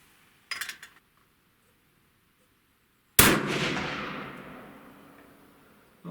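A deer rifle fires a single loud shot down range outdoors at a farm, with a sharp crack and a long decaying echo, preceded by a brief faint clatter.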